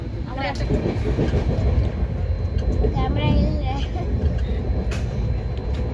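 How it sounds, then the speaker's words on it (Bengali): A train rumbles past at speed, a loud, continuous roar with rattling and a brief high squeal, while voices talk faintly over it. "ট্রেন জোরে যাচ্ছে"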